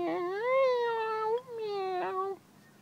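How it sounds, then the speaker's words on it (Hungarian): A cat meows twice in quick succession, close and clear, each call drawn out and slightly wavering, with quiet in between and no talking. "Miért nyávogsz te itt nekem?"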